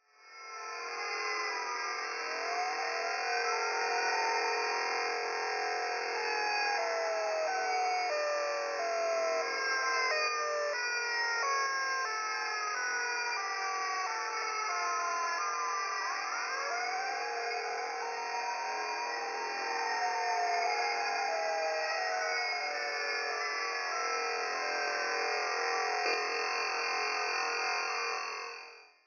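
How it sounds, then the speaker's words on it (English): A continuous, eerie wailing siren tone on a radio frequency sweeps and warbles steadily over a bed of broadband radio static, loud and unbroken throughout. "this is the sound of the famous Siren Head."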